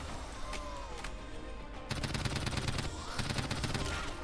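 Rapid bursts of gunfire crack in a Roblox zombie school survival game: a few spaced shots, then a dense, loud, fast stream of repeated shots, with faint game sounds underneath.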